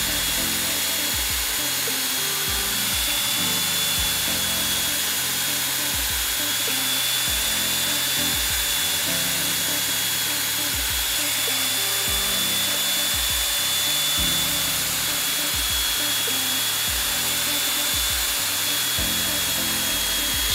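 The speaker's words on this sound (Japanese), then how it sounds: "それでは電気ベルトサンダーを使って墨出し線のところまで削っていきます" An electric belt sander fitted with a 100 mm wide, 180-grit belt grinds wood down to a marked line while building a bed, a continuous high motor whine over rough, rhythmic rasping of the belt against timber.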